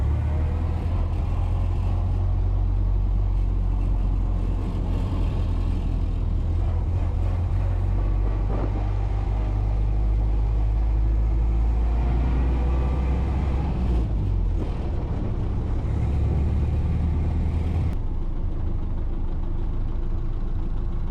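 A 1931 Ford Model A drives along with a heavy, low engine rumble and drone that continues throughout, with road and mechanical noise on top and occasional shifts in tone.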